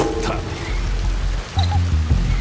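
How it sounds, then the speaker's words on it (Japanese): Rain falls in the video game Shadow Tactics: Blades of the Shogun, a steady broadband patter with low rumbling tones and short musical or ambient notes over it. "雨が冷たい。"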